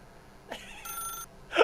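A telephone in The Stanley Parable video game rings with a brief trilling bell tone mid-clip, followed by a louder, harsher burst at the end, over a faint low background hum.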